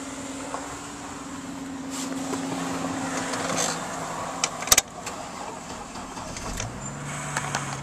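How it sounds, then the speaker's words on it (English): Power windows on a 2004 GMC Envoy XL SLT moving inside the cabin, a steady low electric motor whir running for several seconds with a faint click partway through, close and alone. "There's your power seats, power windows."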